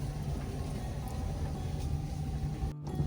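A car engine pulls uphill with the accelerator pressed, a steady, close, low hum and rumble throughout with no talking.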